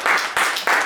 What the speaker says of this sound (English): He's like, clap, guys.